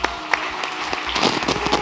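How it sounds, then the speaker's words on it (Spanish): A church congregation applauding during a worship service, steady clapping from a crowd with a few louder individual claps, lasting under two seconds. "Denle un aplauso a Dios."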